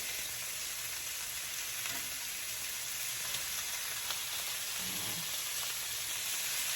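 Steady, fine sizzling of meat searing in a hot pan, a constant crackling hiss with faint occasional pops and no voices.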